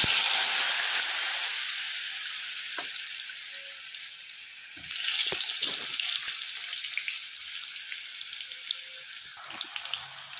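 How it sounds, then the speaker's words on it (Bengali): Potatoes frying in a pan make a broad, hissing sizzle, loudest at the start and again near the middle, with scattered spoon clicks and a steady low hum underneath and no voices. "এই যে আমার আলুটা ভাজা হচ্ছে"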